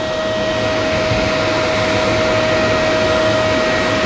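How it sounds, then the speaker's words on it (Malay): A shop vacuum runs as the suction unit of a homemade sandblasting system, a loud, constant whining roar with a steady tonal hum and no speech over it. "kira sekarang vacuum aku on"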